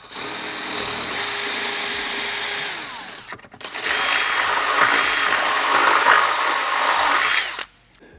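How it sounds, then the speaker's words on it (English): A power drill with a 5/16 bit whines steadily, pauses briefly, then starts again with a louder, harsher grinding whine as it bores through a metal 4Runner rear bumper before cutting off. "we're gonna use a 5/16 drill bit for this"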